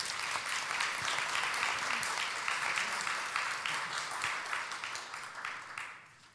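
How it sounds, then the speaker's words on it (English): Sustained audience applause for a panel at a climate change summit, dense and steady clapping from a large crowd that fades gradually toward the end. "Can we get a round of applause for our panelists?"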